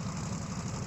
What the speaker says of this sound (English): it's got the good engine noises that I really like